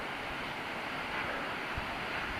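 A waterfall pours into a pool somewhere below, a steady broadband rush of water that holds even from start to finish with a little wind noise mixed in and nobody speaking.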